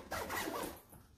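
A zipper on a disc bag's flap is pulled closed in one quick, close rasping stroke lasting under a second, then it goes quiet.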